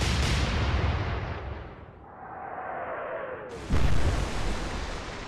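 Battleship guns fire in the naval video game Atlantic Fleet, a loud broadband blast rolling into a long decaying rumble with a descending whistle, then a second sharp boom near the end.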